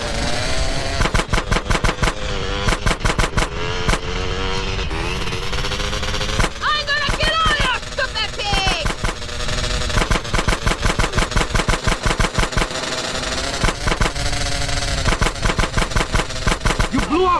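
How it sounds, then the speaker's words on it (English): GTA San Andreas mobile gunfire rattles in rapid, loud bursts of automatic shots, near and sustained across the scene, while characters talk and a tonal game soundtrack runs underneath. "Stop shooting that thing right next to my ear."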